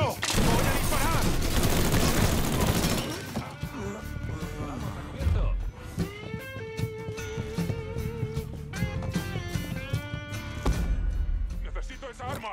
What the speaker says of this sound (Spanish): ¡Voy a disparar!